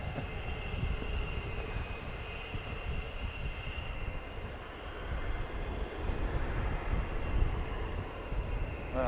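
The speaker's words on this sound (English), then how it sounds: "I've got another one taxiing out by the sounds of it" A military jet taxis out at RAF Lakenheath with a steady, broad engine roar and whine that hold for the whole stretch at a moderate distance.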